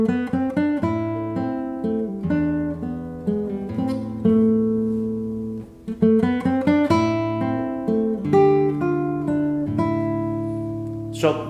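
The same beginner nylon-string classical guitar piece is played slowly, with deliberate plucked notes and chords left to ring and decay between phrases, close and solo.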